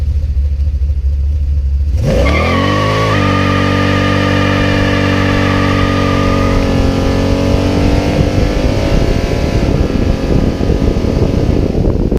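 A Chevrolet Impala SS with a 383 stroker on sticky tires launches hard: a loud engine roar bursts in after a quiet start and holds as a sustained, rising drone with squealing tires, with no talk.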